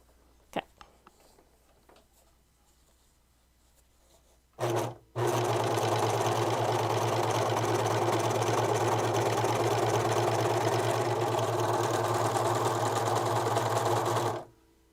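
Sewing machine stitching improvised snow pants with needles due for a change: a few quiet clicks and handling noises, a brief whir, then a loud steady mechanical hum running about nine seconds before stopping.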